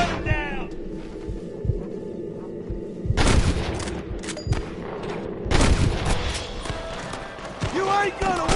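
Gunfire in a Western shootout video game, bursts of rapid shots crackling near and loud, with heavy volleys around the three and five-and-a-half second marks, under game voices shouting.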